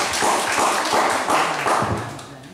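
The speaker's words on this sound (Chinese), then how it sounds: "大家热烈掌声一下啊" An audience claps warmly at a book event in a small hall, a dense burst of hand-clapping that swells in waves and then tapers off toward the end. No voices stand out over the applause.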